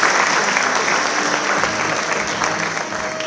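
Loud, dense applause from an audience at a student award ceremony fills the moment continuously, with no voices on top.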